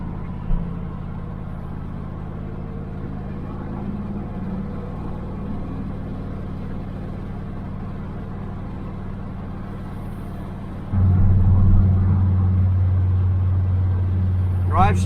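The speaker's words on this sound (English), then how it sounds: "Oh, it sounds good now, but well, it's driving straight. Shifted through all the gears." A 1976 Chevrolet El Camino on a test drive after its build, with a steady low engine drone and road rumble throughout that grows louder and heavier near the end as the car pulls harder.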